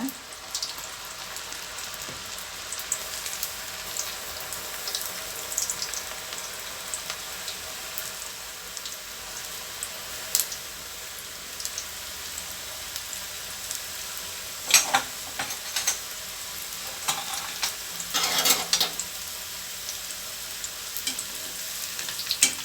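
Bitter gourd pakoda crackles and sizzles while frying in hot oil, a steady close bubbling hiss broken by sharper pops as pieces are stirred.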